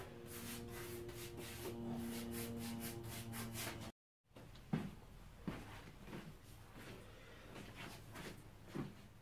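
Wax being rubbed onto the collar of a late 19th-century cast iron bollard during mold preparation. A steady tonal hum fills the first few seconds, then comes a brief gap, followed by soft, uneven rubbing strokes up close.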